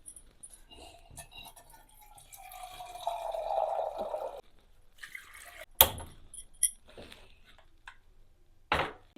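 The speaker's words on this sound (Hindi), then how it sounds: "थोड़ा से पानी डाल देती हूँ।" Water poured into a pot of lentils (dal) set back on to boil gives a soft, sustained liquid rush lasting a second or two, followed by a few sharp clinks and taps of utensils in a quiet kitchen.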